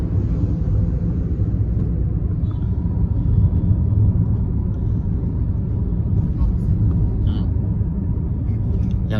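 A Mercedes-Benz bus on a road toward Tasikmalaya rumbles past with a low, steady engine drone, close and continuous, while someone talks over it.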